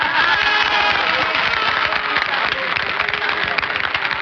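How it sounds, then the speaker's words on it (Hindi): Audience applause at a Bhojpuri film event, a loud, continuous wash of clapping from many hands lasting throughout, with no voices rising above it. "तालियों का बहुत बहुत धन्यवाद"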